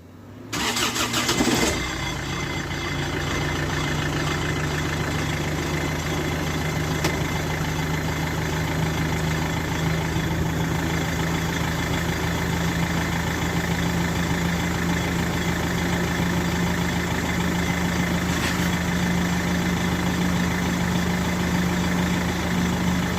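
A Rover 75 car engine cranks over and catches in the first two seconds, then settles into a steady, even idle that hums on close by for the rest of the time, with no talking.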